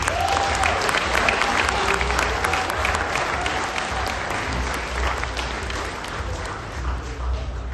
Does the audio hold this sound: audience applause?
yes